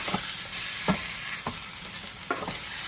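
Beef searing in a pot over medium-high heat gives a dense, continuous sizzle, close and fairly loud, broken by a few soft stirring scrapes at irregular intervals.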